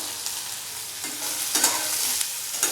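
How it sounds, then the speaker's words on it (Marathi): Onion sautéing in oil with mustard seeds, cumin and sesame, heard as a soft close sizzle broken by short stirring scrapes of a spoon in the pan, with no voices. "कांदा परतून घेऊया"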